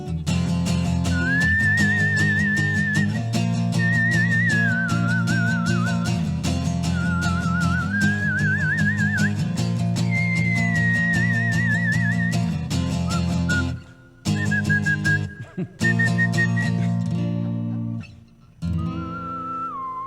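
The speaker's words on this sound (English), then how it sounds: "The lost art of whistling." Whistling a melody in a radio studio: a clear, loud whistled tune with vibrato on held notes, playing over a full musical backing track and breaking off briefly near the end.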